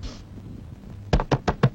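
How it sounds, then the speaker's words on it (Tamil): A run of five sharp knocks on a door, loud and close, evenly spaced after a stretch of quiet room tone, in a Tamil film scene. "எவனோ கதவை தட்டி நம்மள பிரிக்கிறான்"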